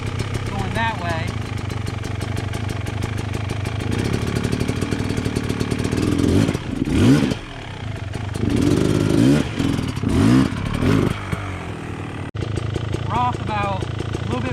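A dirt bike engine idles and revs in uneven bursts on a rocky trail with logs and jagged rocks, rising and falling with clutch work while a rider talks over it.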